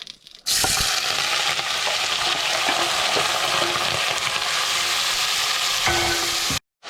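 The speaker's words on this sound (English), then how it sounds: "I will fry them on medium to high heat for almost 3 to 4 minutes" Onions frying in hot mustard oil in a pan over medium to high heat, a loud, continuous close sizzle starting abruptly as they go in and running for about six seconds before cutting off.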